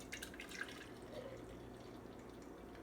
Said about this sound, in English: So let's go ahead and pour us up a cup.